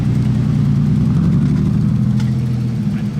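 A Lancia Stratos sports car on a Monaco street at night runs with a steady, deep engine rumble, loud and close, holding an even idle-like drone throughout.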